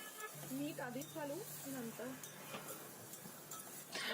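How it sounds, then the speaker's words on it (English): Val papdi beans being stirred in a pan with a hot tempering, giving a soft sizzle with spoon scrapes and light metal clinks, close by, while a voice hums a brief melodic line over it. "So mix everything well so that the vegetable nicely get coated with the fotni or the bagar."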